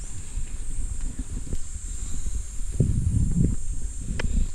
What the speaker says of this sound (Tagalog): Pero mahangin siya.